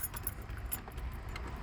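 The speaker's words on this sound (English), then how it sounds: "Can't get the key in." Keys jangle and rattle in a steady stream of small metallic clicks as a key is worked into the ignition of a 1990 Volkswagen Golf GL MK2, close up and fairly quiet, with no talking.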